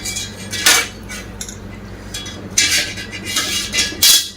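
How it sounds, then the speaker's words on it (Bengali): A metal stand goes into a kadai, sounding as a few sharp, close metallic clanks and scrapes spread unevenly over a few seconds, with quiet gaps between them. "এবার ওর মধ্যে এবার একটা স্ট্যান্ড দিয়ে দেব"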